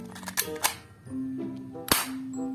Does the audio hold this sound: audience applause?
no